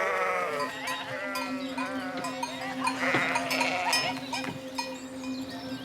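A flock of sheep bleats on a farm, with several overlapping bleats near and far alongside a clanking cowbell and faint hoof steps, and a voice speaks briefly in the background.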